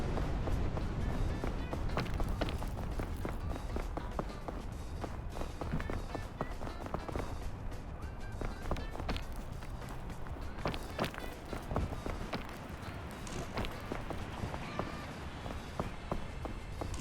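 Footsteps in snow crunch steadily and quickly throughout, a dense rhythmic patter close to the microphone with constant rustling, suggesting a brisk walk or run.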